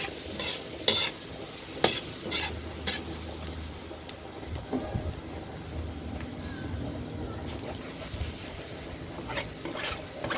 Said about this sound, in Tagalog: haluin natin ng haluin para hindi dumikit